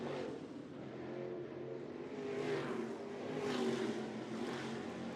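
Late model stock cars run laps at Golden Isles Speedway, a steady broadband engine roar that swells and fades as cars pass, with no talk over it.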